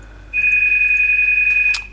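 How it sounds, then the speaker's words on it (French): A telephone ringtone sounds as a single clear, steady electronic tone lasting about a second and a half, loud and close in an otherwise quiet room, ending with a brief crackle. "Téléphone. C'est ça, c'est discret."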